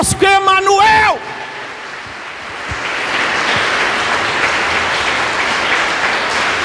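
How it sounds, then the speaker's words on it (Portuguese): A church congregation breaks into loud, sustained applause, a dense wash of clapping that fills the room after a preacher's raised voice at the start. "Aplauda o Senhor, você pode?"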